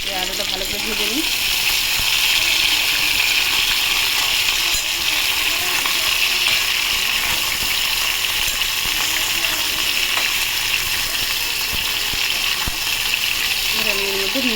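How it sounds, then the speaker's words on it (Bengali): Potatoes for aloo posto fry in a pan with a loud, steady, hissing sizzle that holds unbroken throughout. "থাক, এই আলুটা ভালো করে ভেজে নিই।"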